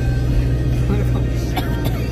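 A motorized tricycle climbing a steep uphill road in the Philippines, its engine droning steadily and fairly close, with a brief voice over it.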